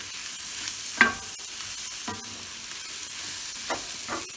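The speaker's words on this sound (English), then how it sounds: "We'll let the mushrooms cook down now." Salted mushrooms cooking down in a pan, a soft steady sizzle with a few sharp scrapes and taps of a utensil stirring, close and fairly quiet.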